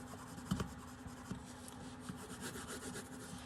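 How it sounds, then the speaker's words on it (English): Soft scratchy rubbing of pencils on paper, irregular strokes close by over a low steady hum, with no voices. "Sorry about the noise of the pencils"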